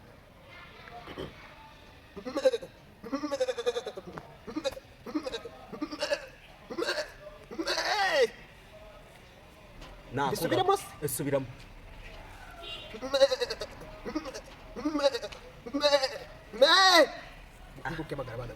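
A man imitates a mother goat that has just given birth calling to her kids, a run of nasal bleating cries and hiccup-like gulps repeated in uneven bursts at a competition, mixed with spoken words.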